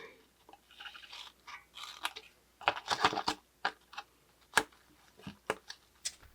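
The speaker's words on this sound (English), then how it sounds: "Once the top and bottom are folded, cut out the tabs." Scissors snipping tabs out of folded paper for a small craft box, a run of short crisp cuts in uneven clusters, some close and sharp, with no talking.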